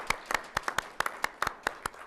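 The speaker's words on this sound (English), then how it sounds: "It's our virtual clapping and hugging." A small group claps in brisk, uneven applause at a neighborhood awards ceremony, sharp individual hand claps ringing out over a quiet room.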